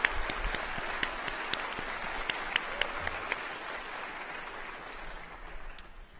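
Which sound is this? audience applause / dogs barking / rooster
audience applause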